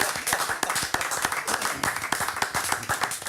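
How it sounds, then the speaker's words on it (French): Applause from a gathered staff audience at a workplace award presentation where a 10,000-euro sum is handed over, with sharp, dense claps sounding close and steady throughout. "Applaudissements, s'il vous plaît."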